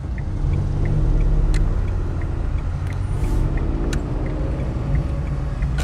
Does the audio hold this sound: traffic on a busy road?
yes